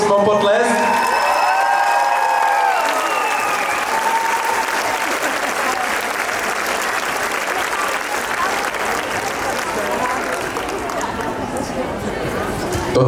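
Audience clapping for the youngest dancers at a dance school exhibition, dense sustained applause from a crowd, loud and continuous, with a voice speaking over the start.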